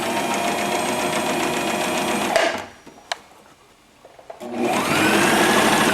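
Sewing machine back stitching the collar edge of jacket front and back panels, a steady loud whir that stops for about two seconds with a couple of clicks, then starts up again.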